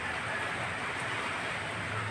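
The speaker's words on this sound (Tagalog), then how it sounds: "Hindi lubos ako makalabas kasi umuulan sa labas." Steady rain falls outside a backyard on a windy day, a dense, even hiss of drops spread across the whole clip with no pauses, close and moderately loud, with no voices.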